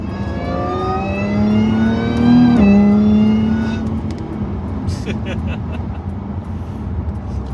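A supercharged Jaguar F-Type engine revs hard with a rising whine and a roaring exhaust, pitch climbing then dropping as the throttle lifts, heard up close with crackles trailing off.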